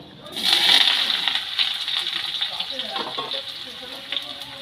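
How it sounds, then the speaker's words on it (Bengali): Chopped potato and eggplant drop into hot oil seasoned with panch phoron, bursting into a loud hissing sizzle that settles into a steady, slightly softer crackle with small pops. "কেটে রাখা আলু আর বেগুন ওই তেলের মধ্যে আমি দিয়ে দেবো।"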